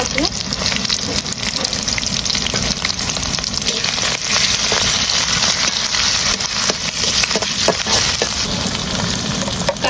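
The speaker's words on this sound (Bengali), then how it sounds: "টমাটোর পেঁয়াজ ভালো করে ভেজে নিয়েছি" Onion and tomato with green chillies sizzle steadily in a pan for a crab curry, a loud, continuous frying hiss with faint stirring clatter and no talk.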